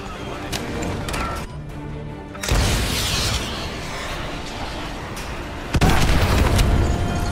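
Missile strike explosions in the video game Call of Duty Modern Warfare Remastered: heavy, loud blasts with a sustained roaring rumble, one large impact near the start and another toward the end.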